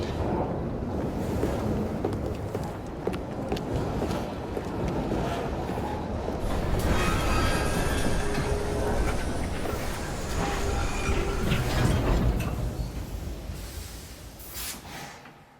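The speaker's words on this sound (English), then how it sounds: "Oh well, at least we have a train now." A train in the video game Assassin's Creed Syndicate rolls along with a loud, steady rumble and whooshing noise that lasts throughout, swelling slightly midway and fading near the end, with no talking.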